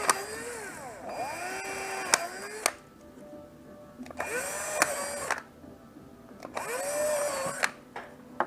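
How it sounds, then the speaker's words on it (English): Power drill boring holes for set screws in an axle housing, three separate whining bursts that rise and fall in pitch with quiet pauses between, close and moderately loud. "Just drill the holes."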